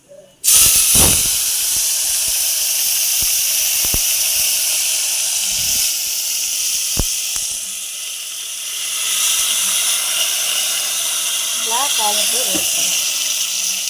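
Tomato rasam juice splashes into a hot tempering with a sudden loud hiss, which settles into a sustained sizzling steam that swells again later, and a voice is heard briefly near the end.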